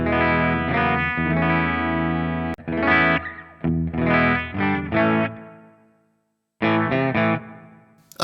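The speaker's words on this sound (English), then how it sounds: "I've just got a bit of reverb going, church reverb, which I really like" Electric guitar played through a Hotone Ampero Mini amp model into a 4x12 cab with church reverb, sustained chords and bursts of playing with gaps of ringing decay and a brief silence, loud and alone.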